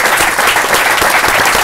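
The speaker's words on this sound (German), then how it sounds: "Applaus für Dirk Pohlmann, der uns zusammengebracht hat." Loud, dense applause from a studio audience, sustained clapping filling the whole stretch without any voices.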